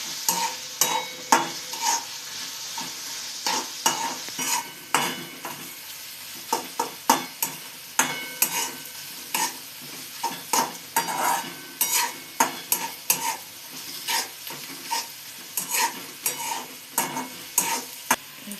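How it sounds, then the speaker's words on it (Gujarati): A spoon scrapes and knocks rhythmically as carrots are stirred in a sizzling pan, the repeated strokes close and clear over a soft frying hiss. "હવે આપણે ગાજરને બરાબર રીતે હલાવી લઈશું"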